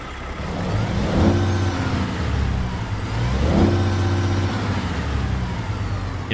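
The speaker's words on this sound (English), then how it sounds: "let's get this International Lone Star started up and get on the road" International Lone Star truck with a Cummins X15 engine in American Truck Simulator, rumbling steadily and swelling through two rising revs, close and loud with no talk.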